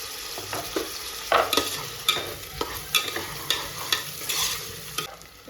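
One chopped tomato tipped into onions frying in a pan, a steady sizzle broken by repeated scraping strokes of a spatula in a loose rhythm, close and moderately loud.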